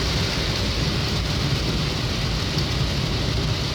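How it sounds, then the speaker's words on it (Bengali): Steady heavy rain pours down without pause, a dense close hiss with a low rumble of thunder underneath, and no voices. "ওই বৃষ্টি হচ্ছে তো ভাই"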